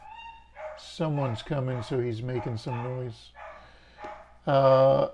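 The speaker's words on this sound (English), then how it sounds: "I don't know if you could hear that dog in the background," Dog barking nearby, a rapid run of five or six loud, tonal barks followed by a pause and a final longer bark-yelp, clear and close, with a brief voice at the start.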